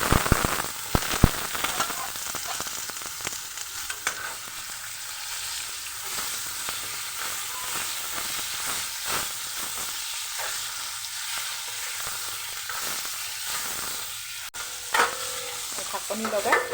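Pointed gourd frying in hot oil with salt and turmeric, a steady crackling sizzle with occasional stirring clatter and pops, close and continuous throughout.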